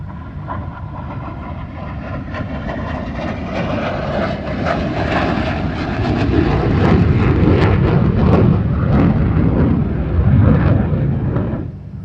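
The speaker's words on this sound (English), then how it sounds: "Such a unique sound there with the F-100 Super Sabre blasted through the skies of Lake Charles, Southwest Louisiana." An F-100 Super Sabre jet makes a high speed pass at an airshow over Lake Charles, Louisiana, its loud, rumbling roar swelling steadily and peaking before easing slightly, with no voices over it.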